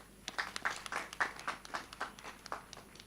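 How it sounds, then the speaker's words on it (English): A small group claps at a university graduation ceremony, a sparse and fairly faint run of separate handclaps over about three seconds, with no voices over them. "You deserve a round of applause."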